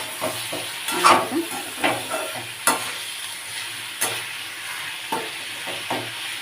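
Potato, cauliflower and onion fry in a pan, a steady close sizzle broken by repeated sharp scrapes and knocks of a stirring utensil.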